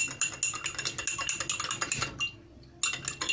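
A metal spoon clinks quickly against a cup as honey is stirred into a warm home remedy. The clinks are close and rhythmic, stop briefly near the end, then start again.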